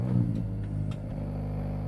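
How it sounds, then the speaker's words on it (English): A 2024 Acura Integra Type S idles steadily after its start-up, a low, even engine rumble close by with a slight swell in the first fraction of a second and no talking. "push that 3rd pedal in, that clutch, hit that start button."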